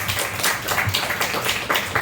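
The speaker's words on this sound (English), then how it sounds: "A round of applause for Joel." Audience clapping at a startup demo day, a steady patter of hands through two seconds, fairly close and dense, with no speech over it.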